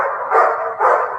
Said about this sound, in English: You got the dog out there, too.